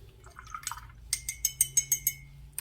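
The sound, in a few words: paintbrush being wet in water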